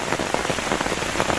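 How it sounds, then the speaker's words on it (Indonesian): Heavy rain pouring down outdoors, a dense, loud and steady hiss of drops hitting surfaces with no pause. "Namun sayangnya ini hujan sangat deras ya"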